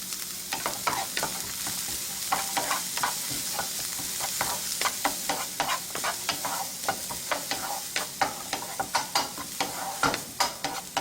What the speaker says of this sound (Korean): 이렇게 해서 살짝만 볶아주시고